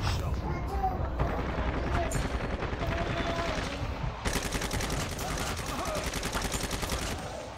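Machine gun fire in Call of Duty Zombies gameplay, rapid bursts of rattling gunshots over a dense game soundscape, with people talking over the action.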